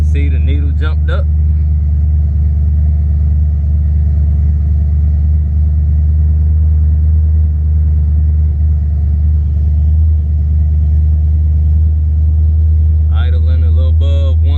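Ford car engine, a Crown Victoria or Mustang, idling steadily with a deep constant rumble for the whole stretch, and brief speech heard at the start and end.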